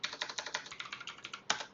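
Quick, light keystrokes on a computer keyboard, a steady run of close clicks with a sharper tap near the end, no voices over them.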